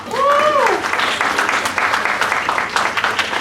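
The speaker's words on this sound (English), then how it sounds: "let's give Mr. Cuaco a round of applause" Audience applause for a speaker at a student scholarship orientation, many hands clapping steadily in a room, with a short whoop or cheer rising over the start.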